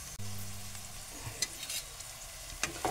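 Onion frying in a pan for a red amaranth and potato dish, a quiet continuous sizzle with a brief low hum at the start and a few soft scraping stirs, no voices.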